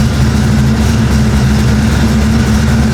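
A 1989 Ford Mustang notchback V8 fitted with a Brawler carburetor runs loud and close with a deep, steady rumble and a slight rise in revs, with no voices.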